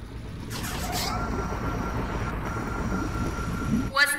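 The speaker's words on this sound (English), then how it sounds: "The engine is engaged and we are starting our ascent." Escape pod engine engaged for ascent in the video game I Expect You to Die, a continuous rumbling hum like a moving vehicle, with faint speech and a brief sharp sound at the end.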